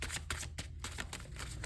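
Tarot cards being shuffled, heard close up as a steady run of dense riffling and flicking bursts that carries on without talk.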